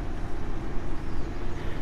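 A tractor driving in the game Construction Simulator 3, its engine giving a steady low rumbling drone with slight fluctuations, fairly loud and close, with no talk over it.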